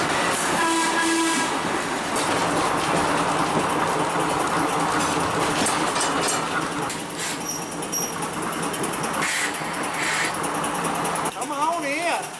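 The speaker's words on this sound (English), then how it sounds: "What you have been riding on is a second generation streetcar." Riding aboard a second generation electric streetcar on a trolley line in downtown Excelsior, Minnesota: steady rolling rumble and wheel noise throughout, with speech heard over the ride.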